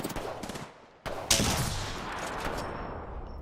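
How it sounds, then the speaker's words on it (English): Gunfire in the Apex Legends video game: a sharp burst of shots opens the clip, then a louder volley followed by sustained rattling fire and a lingering tail, with no talk over it. "Opening fire."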